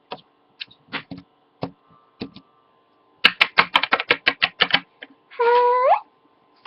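Small plastic Littlest Pet Shop toy figures tap their feet on a hard surface in light clicks, first sparse and irregular, then a quick flurry, ending with a brief squeaky scrape.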